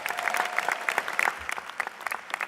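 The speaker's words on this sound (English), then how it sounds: "Let us give them a round of applause." Audience applause at a CUNY keynote event, many hands clapping in a busy, irregular patter with scattered louder claps and a faint tone in the background, no speech heard.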